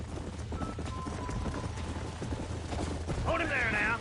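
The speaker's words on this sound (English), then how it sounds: "There's the horses! Get that lasso ready!" Horses galloping in the video game Red Dead Redemption. Steady hoofbeats run under game music, talk and a busy mix of background effects, with a horse whinny near the end.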